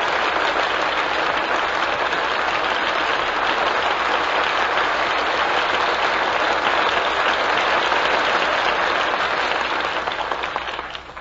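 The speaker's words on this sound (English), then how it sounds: "That well-earned applause deserves a curtain call" Studio audience applause after a radio drama performance of Intermezzo, a long, even roar of many hands clapping that holds steady for about ten seconds and then fades out.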